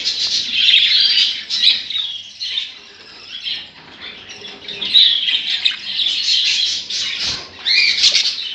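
Budgerigars in a cage chirp and squawk continuously in a busy, overlapping chatter up close, with occasional wing flutters and no talking.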